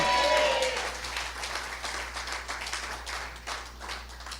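A church congregation at an evening Spanish-language service breaks into applause, a burst of many hands clapping that starts loud and then settles into a steadier, fading patter, with a few voices mixed in.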